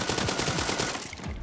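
Rapid automatic gunfire from a Beryl assault rifle in the shooter game World War 3, a loud, continuous burst of closely spaced shots running almost the whole moment, tailing off slightly near the end.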